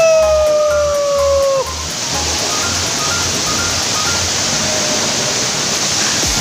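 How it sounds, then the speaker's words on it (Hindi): A tall waterfall in Meghalaya roars as a steady, loud broadband rush of falling water, with a brief tonal whine and rhythmic low thumps over the opening seconds. "ये कितना ऊपर से गिर रहा है देखो। ये रहा मेघालय का वाटरफॉल।"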